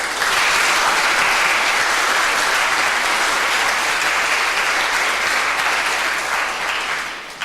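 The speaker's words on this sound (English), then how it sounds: "So please give yourselves a round of applause." A seated audience at a Model UN conference closing ceremony claps in a dense, steady round of applause that holds loud and even for several seconds before starting to fade.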